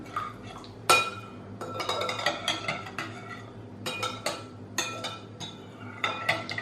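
A spoon clinking and scraping against a bowl while stirring a dry yeast and oil mixture for flatbread dough. The taps come in irregular bursts, close and moderately loud, with no voices.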